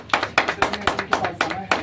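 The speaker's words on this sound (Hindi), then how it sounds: "प्रभु के दास के लिए ताली बजाएंगे" A church congregation claps for the pastor, a brisk run of about a dozen sharp, even claps close by, with no talking over it.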